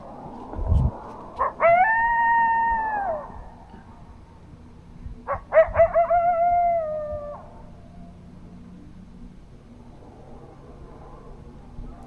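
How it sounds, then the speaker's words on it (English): Two drawn-out wavering howls rise and fall in the distance, one after another, over a low steady background rumble. "Coyotes."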